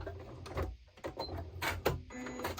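Sewing machine running a short backstitch on fabric for a door draft stopper: a brief mechanical whirr that stops, reverses for a few stitches and resumes, heard close with no speech.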